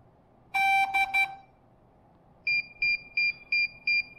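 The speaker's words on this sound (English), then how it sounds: "Wait for the beep." A quick burst of three loud electronic beeps from a DJI RC drone controller pairing with a Mavic 3 Classic, a pause, then a steady run of five shorter, higher beeps at an even pace.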